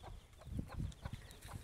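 A hen clucks softly beside her ten chicks, with low rhythmic clucks and faint high peeping close by.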